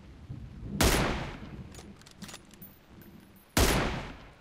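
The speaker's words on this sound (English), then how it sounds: "shot him in the freaking spine" Two loud, sharp gunshots in PUBG Mobile, most likely from a sniper rifle, spaced about three seconds apart, each with a trailing echo, with fainter game sounds between them.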